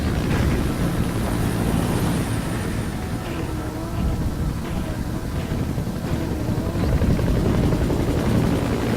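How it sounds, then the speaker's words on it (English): A support helicopter in a video game featuring the Sahelanthropus walking robot, its steady rotor drone and engine rumble filling the scene continuously at moderate loudness. "A support helicopter requested."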